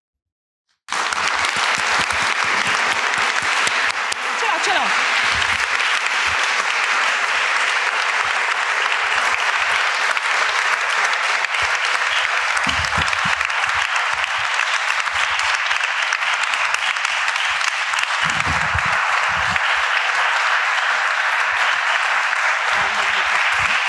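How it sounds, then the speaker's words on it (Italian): Sustained audience applause at a tribute gathering, a long, dense, even wash of clapping that begins suddenly and stays loud and steady for over twenty seconds, with occasional faint voices underneath. "Questo applauso è per Michela, ora e sempre."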